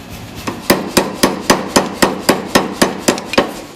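A power hammer in a blacksmith shop pounds a slit steel bar with loud, close metallic blows, about a dozen evenly spaced strikes in a fast, steady rhythm.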